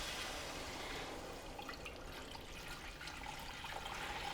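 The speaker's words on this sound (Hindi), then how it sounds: "अब हम इसमें पानी शामिल करेंगे" Water pours steadily into a cooking pot holding browned gola kebabs and rice for pulao, a continuous broad splashing rush that stays fairly even throughout with no talking.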